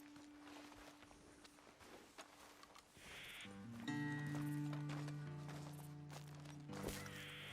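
Horses' hooves clop at a walk in Red Dead Redemption 2, soft irregular steps on the ground at first, then continuing beneath sustained musical tones that swell in partway through.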